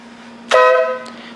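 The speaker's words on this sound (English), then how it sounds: "I put a horn on here." An electric air horn mounted on a bicycle gives one short, loud, close blast with a buzzing, harmonic tone, followed by a faint click over a low background hum.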